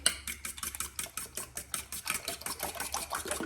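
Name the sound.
stirring milk into eggs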